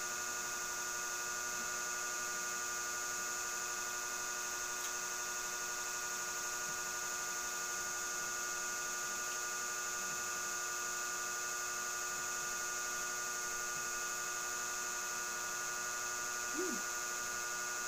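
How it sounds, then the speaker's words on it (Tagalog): An electric fan runs indoors, giving a constant, even drone with a steady tonal hum that holds unchanged throughout, with no other sounds. "Naka-on yung electric fan ko."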